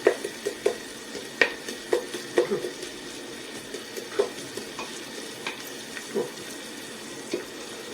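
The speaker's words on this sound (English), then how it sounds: "So we just saute this until it becomes fragrant." Garlic sautéing in a pan for cream of mushroom soup gives a soft, steady sizzle, punctuated by a dozen or so light spoon taps and scrapes at an uneven rhythm, close by with no talking.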